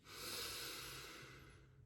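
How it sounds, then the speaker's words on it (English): A person breathing in a shallow chest-and-shoulders style, one long, close, airy inhale-exhale that fades out, heard alone with no talk. "So typically when humans breathe, they breathe like this"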